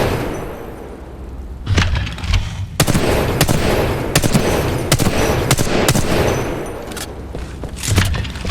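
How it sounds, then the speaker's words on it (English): Gunfire from a weapon in Titanfall 2 rattles in rapid bursts of loud, sharp shots. The bursts come in quick runs separated by brief pauses, and no voices are heard. "Then shoot the gun."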